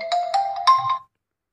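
A short, bright electronic ringtone melody on an Itel A70 phone, several quick chiming notes, loud and close, ending abruptly after about a second.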